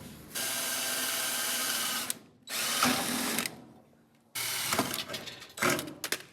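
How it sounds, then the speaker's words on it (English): A power drill bores out spot welds on the rusted sheet metal of a 1965 VW Beetle's spare tire well, in three whining bursts of a few seconds each, separated by short pauses and loud at close range. "We gotta drill out these spot welds here."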